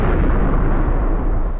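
A dense, booming film explosion effect, built from mixed missile, rocket and tank recordings, roars loudly and steadily for under two seconds before cutting off.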